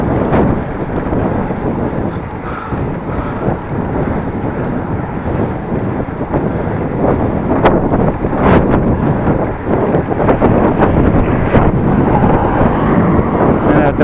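Steady wind buffets the microphone across open, flat, unsheltered countryside on a bike ride between Appingedam and Groningen, a dense continuous low roar with gusty swells that grows slightly stronger toward the end, with no voice.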